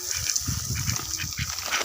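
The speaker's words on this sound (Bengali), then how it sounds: "এই হাঁসগুলো কার? হাঁস দেখছেন?" Domestic ducks on a Bangladeshi village farm quack in a continuous overlapping chorus, fairly close and steady, with no talk during the sound.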